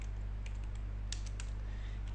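Keys tapping on a computer keyboard while entering a search command in a Linux terminal on Ubuntu, a few scattered clicks over a steady low hum, close and alone.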